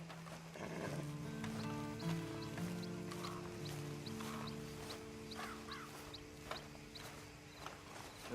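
Horse hooves walk at a slow, regular clip-clop in the video game Red Dead Online, faint taps under a steady bed of music or ambience.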